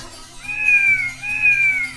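Two drawn-out cat meows in a row, clear and close, each rising then falling in pitch, with a faint low hum underneath.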